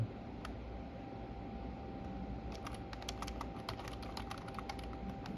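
Fast bursts of typing on a computer keyboard, soft clicky taps in irregular clusters over a steady fan-like hiss, with no voices.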